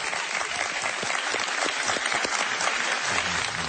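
TV studio audience applauding on a live Spanish-language talk show, dense sustained clapping from a crowd throughout, loud and close, with no speech over it.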